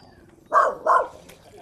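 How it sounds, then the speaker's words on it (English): The resident dog at a land-based fishing spot in Bermagui gives two quick, close barks in succession, fairly loud against quiet background. "And the resident dog."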